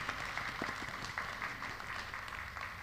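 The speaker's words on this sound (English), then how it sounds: "we can give Dr. Stewart a round of applause." Scattered clapping from a small audience at a university symposium honours Dr. Stewart, the individual claps somewhat distinct and fairly quiet, with faint murmurs underneath as the round of applause continues.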